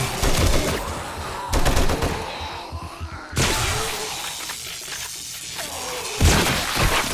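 An M60 machine gun fires in 7 Days to Die Alpha 18, delivering several loud, close bursts of rapid automatic fire separated by short pauses, with some crashing impacts between them.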